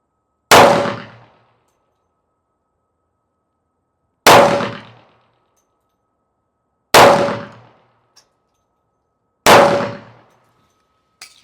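Pistol shots from an XCM Elite firing Federal Premium 10mm Solid Core 200 grain ammunition at about 10 yards. There are four sharp, loud, close reports with a few seconds between them and silence in the gaps.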